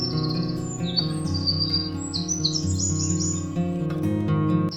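A koel bird's calls used as a sound effect in a Hindi cartoon story: bright, repeated chirps and warbles over a bed of background music, fairly loud and close.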